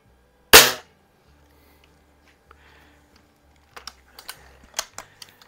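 Anschutz model 335 break-barrel air rifle firing, one sharp loud crack followed by a series of small clicks and handling knocks, with no talking.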